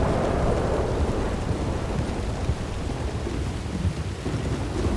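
A roleplay video game thunderstorm pours down heavy rain with a dense, constant roar and low rumbling thunder, loud and unbroken throughout, with no voices.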